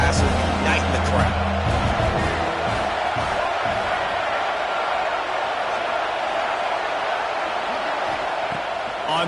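A football stadium crowd at a Utes game roars loudly and continuously, a broad wash of cheering and hubbub with a commentator's voice briefly over the start.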